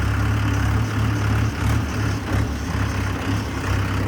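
A tractor with an engine of about 500 runs with a loud, steady, low diesel drone and a slight pulsing throb, close by and without talk.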